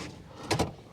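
A car door on a 2008 Toyota Wish shuts from inside the cabin, one short, solid thump standing out against the quiet interior.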